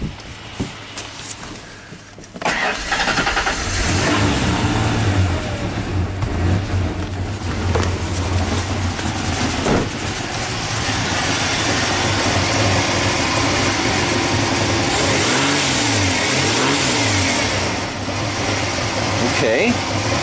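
Ford Ranger pickup truck with a rich-running engine fault starting up after a quiet moment, then idling with a steady mid-pitched rumble close by, while someone talks over it.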